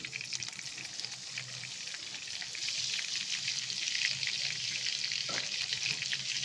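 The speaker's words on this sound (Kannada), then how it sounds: "ಈರುಳ್ಳಿ ಸ್ವಲ್ಪ ಫ್ರೈ ಮಾಡ್ಕೊಳ್ಳೋಣ." Onions frying in about four spoons of oil in a pan for a prawn fry, a steady close sizzle that swells slightly louder midway, with no voices.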